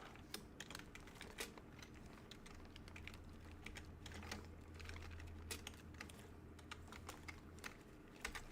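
Keys clack in quick irregular bursts on a computer keyboard, close and fairly quiet, with a low hum in the background.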